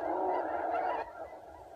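Geese honking outdoors at a goose hunt, a dense, steady chorus of calls from a flock that fades slightly toward the end, with no talk.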